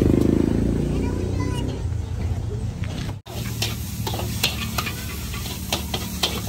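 Nasi goreng kampung stir-fried at a food stall in Tanah Rata, Cameron Highlands: a steady hiss of sizzling in the wok with rhythmic clinks of the spatula scraping, continuing throughout amid stall background noise.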